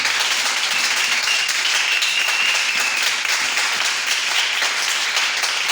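Church congregation at a French-language evangelical service breaking into sustained applause and cheering, a dense, steady wash of clapping and voices lasting throughout with no pauses.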